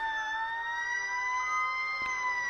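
A steady ambulance siren wails continuously, a loud sustained tone with rising harmonics holding throughout with no pauses.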